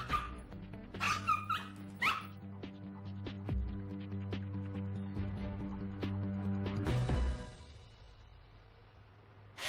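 A dog barks and yips in short bursts over a steady low hum, with a brief louder rustle near the end.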